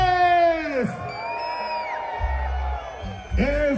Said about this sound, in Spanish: Queremos escuchar un grito a la cuenta de tres de todos y todas